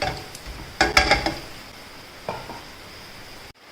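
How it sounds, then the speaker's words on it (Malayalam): Cashew nuts being sautéed in a pan for vermicelli upma, with a cluster of clinking and rattling stirs followed by a softer scrape and a faint sizzle, no talk. "കുറച്ച് കേസിനട്ട് ഇട്ട് കൊടുക്കാം ഇട്ട് കൊടുത്തതിന് ശേഷം ജസ്റ്റ് ഒന്ന് വഴറ്റിയെടുക്കാം"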